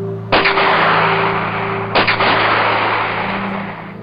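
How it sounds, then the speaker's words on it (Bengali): Two sharp, loud gunshots, about a second and a half apart, crack out and each trails off in a short echo over a low, steady hum. "শিহরিত তাহের জালালাবাদ পাহাড়ে দাঁড়িয়ে যেন শোনেন বহু বছর আগের সেই গুলির শব্দ"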